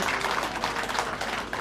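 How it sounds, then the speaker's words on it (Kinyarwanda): An audience at a gathering claps to welcome guests, a dense and continuous burst of many hands applauding close by. "Twongere mbasabe mubambere amashyi mubakire"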